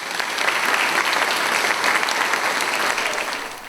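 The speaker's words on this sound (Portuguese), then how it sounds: "Uma forte salva de palmas ao nosso palestrante aqui." An audience at a lecture applauds a speaker after his introduction, a loud, dense burst of clapping that holds steady before tapering off slightly at the end.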